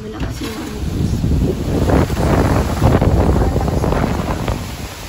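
Strong, gusty typhoon wind roars against the microphone in continuous buffeting waves, loud and close throughout.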